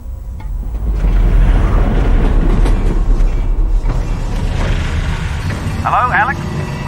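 A moving train in Half-Life: Alyx gives a loud, steady low rumble and mechanical rattle that swells early and then holds, with a brief higher whine near the end.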